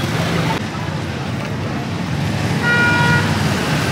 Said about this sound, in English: Bikes run through here, cars go through here.